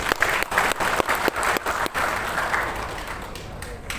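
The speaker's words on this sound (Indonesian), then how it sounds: "Tepuk tangan untuk Siliwangi." A crowd at an official gathering about the Citarum river cleanup applauds loudly in dense, ragged clapping, with sharp individual claps early on before the sound thins and fades, and some voices mixed in.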